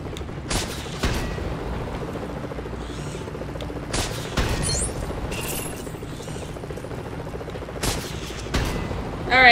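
Iron Man firing at enemies in the Lego Marvel Super Heroes video game, with bursts of rapid gunfire and blasts at about 0.5 s, 4 s and 8 s over a steady background of game music and effects, and a louder hit at the end.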